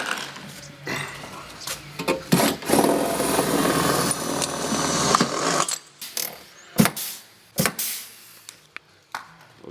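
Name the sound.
drilling into the glued hole on a VW T6 van roof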